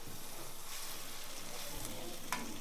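Mussels frying in a thin-bottomed pan while being stirred, a constant close sizzle with soft scraping stir movements and a small clink near the end, with no talking.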